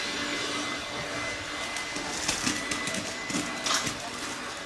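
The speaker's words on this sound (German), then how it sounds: "Ein Staubsauger." A vacuum cleaner runs at moderate level, a steady whirring drone with some fluctuating bumps and scrapes, while faint voices may be present.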